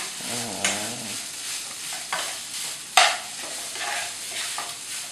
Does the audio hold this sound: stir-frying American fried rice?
yes